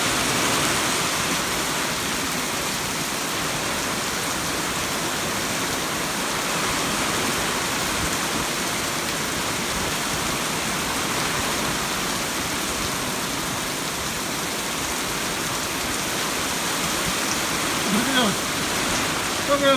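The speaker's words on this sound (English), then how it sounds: "This is what they call a downpour." A heavy rain downpour falls with water running off the ground outdoors on a farm. A dense, loud, unbroken hiss lasts throughout.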